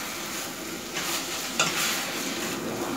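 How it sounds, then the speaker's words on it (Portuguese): Ground beef frying in a pan and being stirred for a bolognese sauce. A steady close sizzle with bursts of scraping as a utensil stirs the meat, and no one speaks. "aqui a gente já tem a carne moída bem fritinha"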